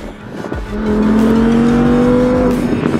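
An Audi R8 V10 with a rear wing on a race track during a club track day, its engine rising into a loud, close, high revving wail that holds steady as the car accelerates past.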